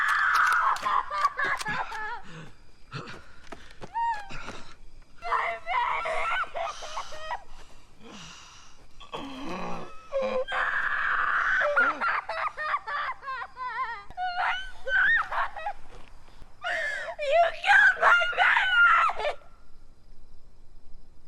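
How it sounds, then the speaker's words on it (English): A woman in the horror film It Comes at Night lets out anguished wailing cries and gasping sobs, rising and breaking repeatedly over about twenty seconds, loud and close with brief pauses between outbursts. "The scream she lets out when she realizes what happened is chilling."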